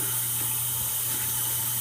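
Tap water runs steadily into a sink being filled for a dirty kitten's bath, a constant close hiss and splash with no pauses.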